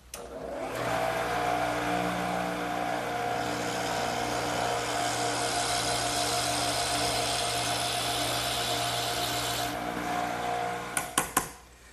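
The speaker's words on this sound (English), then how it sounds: "this one I'm going to have to drill all the way through" A power drill whines steadily for about ten seconds, boring all the way through wood for a trestle table mortise, then winds down and stops with a few sharp clicks.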